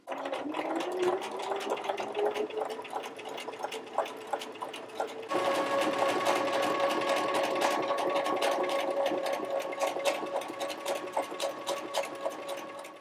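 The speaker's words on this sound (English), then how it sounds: "I'm going to sew this just past the fold, 1/8 inch, and I use this inside of my foot right here as my guide to create an even stitching line" A sewing machine runs steadily, stitching a 1/8-inch pin tuck just past a fold in fabric. Its whirring motor and rapid needle ticking are close and loud, with a brief change in pitch partway through, and no talking.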